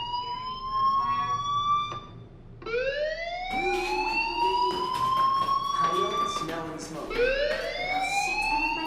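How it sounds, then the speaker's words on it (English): A school fire alarm in the video game Life Is Strange wails in rising sweeps, repeating over several seconds, loud and steady amid other game sounds. "do you hear that fire alarm?"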